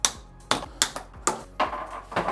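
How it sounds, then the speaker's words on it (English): Plastic zip ties are snapped off the packaging of a Kingbull Hunter e-bike during assembly, with about six sharp clicking snaps coming at a steady, uneven rhythm close by and no talking. "And we'll start popping these zip ties."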